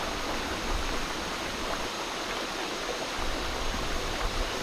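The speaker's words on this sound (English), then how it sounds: "The loud but peaceful sounds of the waterfalls and the rivers that provide clean drinking water to the people" Waterfalls and rivers rushing through a tropical forest, a steady, dense broadband roar of flowing water that stays constant and fairly close throughout, with no voices.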